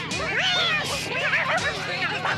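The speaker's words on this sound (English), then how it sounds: "They saw a cat." An animated cartoon cat from Rude Dog and the Dweebs meows and yowls in wavering, stretched cries over busy cartoon soundtrack noise, fairly loud and continuous.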